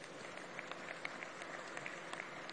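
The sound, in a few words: workers applauding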